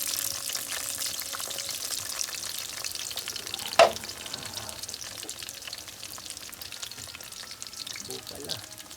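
Eggs frying over a wood fire in an outdoor cooking setting, a steady soft sizzle and crackle running throughout, with one sharp knock or clatter near the middle.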